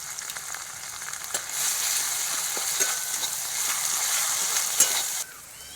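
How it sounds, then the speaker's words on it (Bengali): A constant hissing sizzle of ginger paste frying in hot oil, with light spatula taps scattered through, then cutting off abruptly near the end. "আদা ভাজা হয়ে গেছে"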